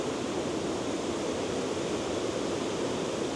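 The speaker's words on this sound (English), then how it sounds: "I'm right by a rushing river" A rushing river pours by up close, a steady, dense wash of water noise that stays constant without a break.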